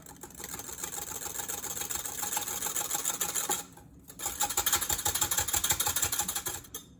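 Sour cream being whisked for a cinnamon walnut bread batter gives a steady, rapid rhythmic whirring and clicking, close and even, with one short break midway before resuming.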